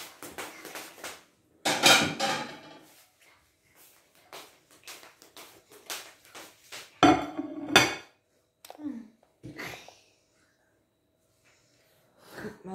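Clattering of dishes and utensils in a kitchen, with scraping and knocks in bursts and quiet gaps between, as food is turned out onto a plate.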